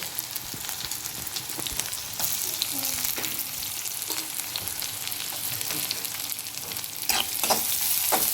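A large sliced onion fries in oil with crushed ginger and garlic, making a steady close sizzle with intermittent scraping stirs and clinks throughout. The sizzle grows slightly louder near the end, and no one speaks.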